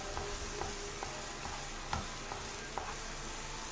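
Fig halwa roasts in a pan with a low, even sizzle and quiet spoon strokes at a slow regular pace, soft and close, with no voices.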